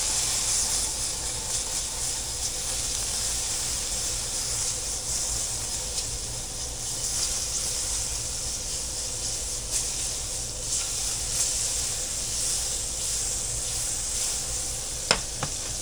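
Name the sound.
butter melting and sizzling in a pan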